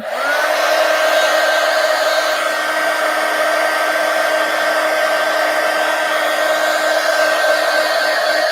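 A heat tool blows steadily and loudly to dry a napkin art journal page, a constant whirring roar with a high whine that holds from start to finish with no talking.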